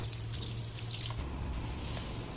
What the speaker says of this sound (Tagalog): Tatanggalin natin ang tubig